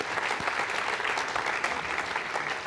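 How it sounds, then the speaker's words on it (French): Audience at a satellite launch ceremony applauding the armed forces, a dense, steady wash of many hands clapping that holds evenly loud from start to finish with no voices on top. "je vous propose qu'on les applaudisse"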